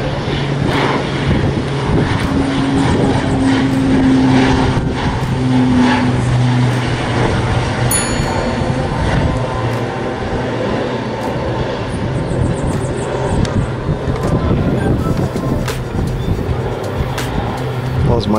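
A Beechcraft C90GTi King Air twin turboprop at Sorocaba airport, a loud sustained engine and propeller roar with steady tonal drones, heard up close with a voice speaking over it.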